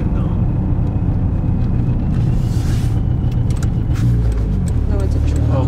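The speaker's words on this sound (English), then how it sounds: "No, it's a truck. Okay, that looked just like, it's a Chevy pickup truck." A Chevy pickup truck driving on a road, a loud steady engine and tire rumble heard from inside a vehicle, with a constant low roar throughout and brief brighter swells of passing noise.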